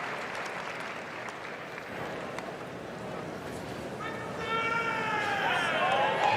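A dog show crowd applauds in a dense, steady wash of clapping that swells louder toward the end, with a few whistles and cheers rising over it.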